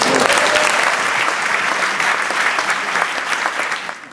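Sustained applause fills a gala dinner hall, a dense, loud clatter of clapping hands that holds steady for several seconds before beginning to thin at the end.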